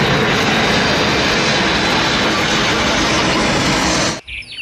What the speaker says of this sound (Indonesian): Ada juga pesawat terbang.